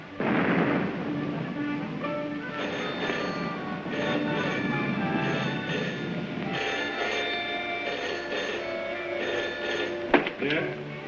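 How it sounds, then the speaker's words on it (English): Anti-aircraft artillery fires in a 1936 film soundtrack, a heavy, continuous rumble of distant gunfire with a sharp crack near the end. "Listen, guns again."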